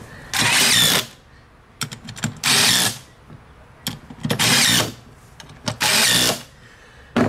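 A power tool drives bearing bolts on a Coleman KT196 go-kart jackshaft in four loud, near bursts of roughly half a second each, separated by quieter pauses with small clicks and handling noises.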